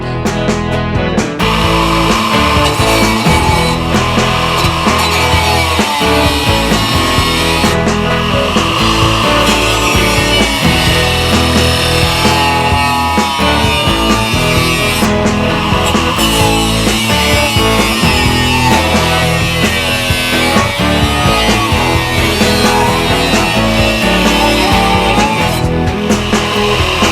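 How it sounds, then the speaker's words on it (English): A panel piece for a Maxim aircraft tail being trimmed with a power tool, giving a steady, loud, continuous cutting whir for the whole stretch with small shifts in pitch and load. "now I'm just going to trim this piece up"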